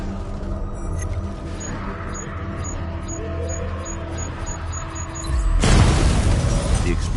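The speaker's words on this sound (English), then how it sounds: "The explosion disabled the main cannon." A loud boom hits late in the clip of the Batman: Arkham Knight video game, cutting through steady mechanical rumble and high beeping tones before it, with no talk.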